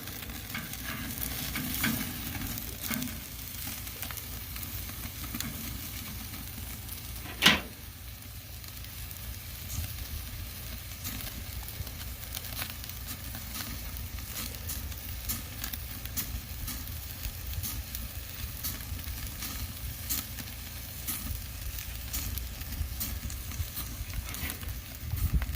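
Thick ribeye steaks sizzle on an Oklahoma Joe's Highland grill during a reverse sear, a steady close hiss and crackle throughout with one sharp metallic clank early on, no talking.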